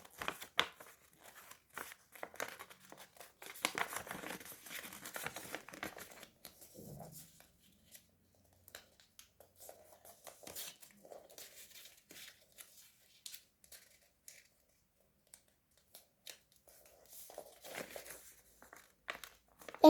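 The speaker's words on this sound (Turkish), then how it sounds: "Şimdi şu köşeleri tam orta noktasına getirene kadar şöyle kıvırıyoruz tüm köşeleri." Paper corners being folded and creased into an envelope, giving soft crinkling, rustling and sharp creasing scratches in uneven bursts separated by quiet gaps, close and fairly faint.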